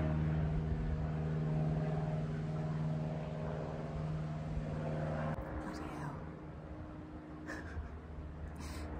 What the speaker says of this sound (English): I forgot what I was saying because of the bloody aeroplane